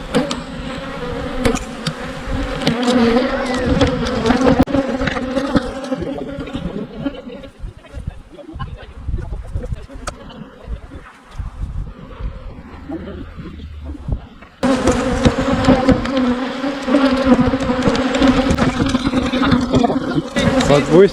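Bees swarm loudly around two destroyed beehives, their dense buzzing close and constant, dipping quieter through the middle before surging back at full strength, with people talking over it.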